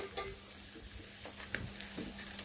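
Pointed gourd and bitter gourd fry in a pan with little oil, giving a low, steady sizzle with a few soft stirring scrapes and light clicks of the utensil against the pan.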